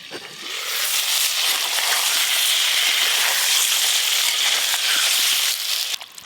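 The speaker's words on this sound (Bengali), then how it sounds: "আলুগুলো হালকা লাল লাল করে ভেজে নিয়েছি" Potatoes frying in a pan for a chicken curry meal, a steady, loud sizzle that crackles continuously close up for about six seconds before cutting off, with no talking.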